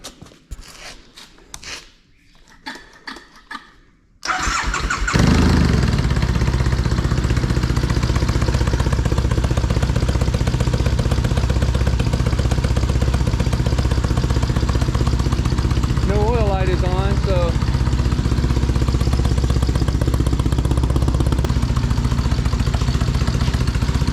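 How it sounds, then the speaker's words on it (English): A 2006 Triumph T100 Bonneville cafe racer engine starts after some clatter and then idles loud and close, a steady rumbling throb that runs without a break. "let's fire it up. And I suggest we just fire it up and let it idle for a little bit."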